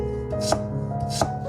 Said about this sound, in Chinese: 首先准备一根红薯，刮去外皮，清洗干净，再切成薄片